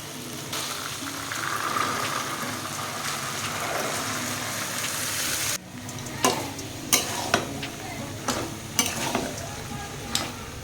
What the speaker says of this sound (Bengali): মশলা কষানো হয়ে গেছে এখন আমি বুটগুলো দিয়ে দিচ্ছি